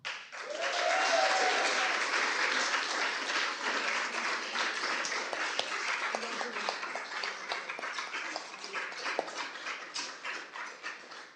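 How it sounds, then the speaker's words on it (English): An audience at a hearing dog team graduation ceremony breaks into sustained applause that swells and then tapers off, with a dog whimpering briefly near the start and some faint voices underneath. "Let's give one more round of applause to all our students graduating here today"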